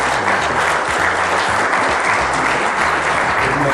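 Steady, loud audience applause at a mayoral gathering, dense clapping filling the whole stretch with no voices over it.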